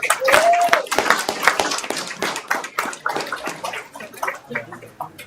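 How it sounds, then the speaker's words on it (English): A small crowd at a city council meeting in Columbia, Tennessee, claps in a loose, uneven burst that gradually thins out, with voices murmuring in the background. "Let's give them one round of applause."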